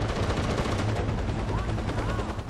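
Enemy gunfire in Far Cry 4 rattles on as continuous, dense rapid bursts over a rumbling low background, loud and unbroken throughout, with a voice faintly present.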